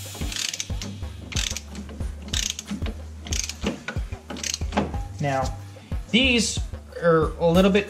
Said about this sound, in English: since I've already got my torque wrench set for that, I'm good to go